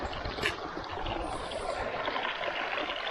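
Water flowing steadily in a small stream near a campsite, a continuous broadband rush and gurgle that stays fairly close and even throughout, with no talk.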